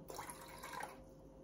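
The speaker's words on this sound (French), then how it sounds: "je complète avec de l'eau de la carafe" Water from a carafe pours into a glass bottle as a short, faint, steady trickle that tapers off after about a second.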